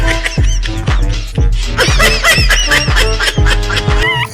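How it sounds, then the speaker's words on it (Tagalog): Loud, close chickens squawking and clucking in quick repeated calls, several birds overlapping throughout. "Hala, na-extra pa yung puting manok ko"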